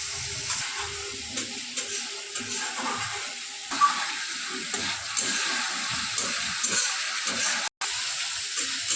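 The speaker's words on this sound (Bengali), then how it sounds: "মশলার পেস্টটা রয়েছিল ওটা ভালোভাবে ধুয়ে দিয়ে ওই জলটাই দিয়ে দিচ্ছি আমি এখানে একটু" Water rinsed from a spice-paste container is poured into a pan where spice paste has been frying, giving a steady broadband sizzle and splashing hiss with occasional stirring scrapes, close and continuous with no talking.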